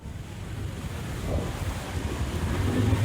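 Floodwater covering a city road in Purwodadi, Grobogan, Central Java, after the Lusi River overflowed, giving a steady rushing wash that swells slightly louder toward the end, with no voices.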